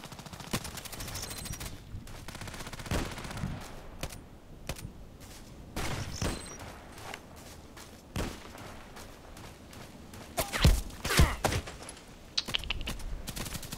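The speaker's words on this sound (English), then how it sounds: "again this guy is shooting through the walls" Bursts of gunfire punch through walls in a first-person shooter, with sharp shots and rapid fusillades coming irregularly across the clip, some close and loud, others softer.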